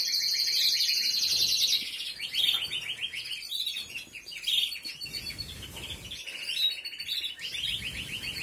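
A bird in breeding condition sings close by with rapid, high trilling chirps in repeated bursts, loud and bright, with short pauses between phrases.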